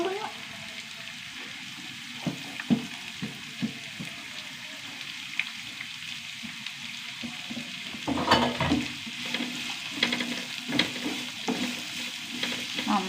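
Four onions with crushed chili sautéing in a pan: a steady sizzle with intermittent spoon clinks and scrapes, growing louder and more vigorous in the second half.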